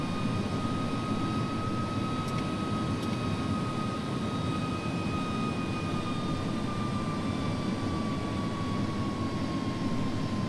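An Airbus A300 heavy cargo jet in the X-Plane 11 flight simulator landing at Baltimore, with a continuous loud jet engine roar and a steady high whine throughout, and no talk.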